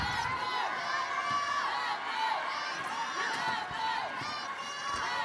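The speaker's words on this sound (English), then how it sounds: "You can hear the crowd really rising to the occasion in this match." Crowd cheering and shouting at a Mexico versus France wheelchair basketball match at the 2012 London Paralympic Games, a dense sustained roar of voices with whoops and rising yells, steady and loud throughout.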